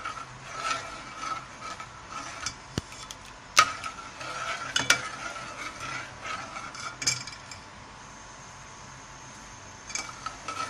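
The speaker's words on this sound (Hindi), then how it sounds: "अभी इस तरह हम चमचे चलाते रहेंगे" A spoon scrapes and stirs milk and sugar in a pot for kulfi, giving close, uneven metallic rubbing and clinks in bursts, then a quiet pause and a few more scrapes.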